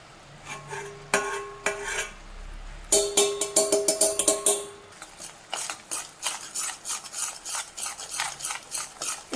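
A spoon stirs and scrapes repeatedly around a pan of thickening jaggery syrup, giving a rhythmic run of rasping, metallic strokes that grows quicker and more regular toward the end, close by and without speech.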